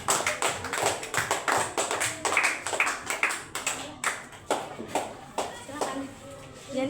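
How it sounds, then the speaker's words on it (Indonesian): A class of students claps for a group in short, uneven bursts of close, sharp claps with gaps between them, thinning out toward the end while children's voices chatter underneath. "Silakan tepuk tangan untuk kelompok 5."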